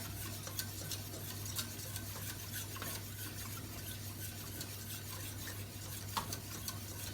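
Pudding with five glasses of milk stirred in a pot on the stove, a faint scraping and ticking of the spoon against the pot repeating steadily over a low hum, with no voices.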